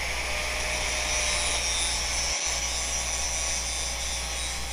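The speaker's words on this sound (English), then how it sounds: "So I use the angle grinder to do the initial surface grind on the steel." An angle grinder runs across the face of a ladder-pattern Damascus steel knife blade, giving a loud, continuous high-pitched whine. The note stays steady throughout, with one brief dropout near the middle.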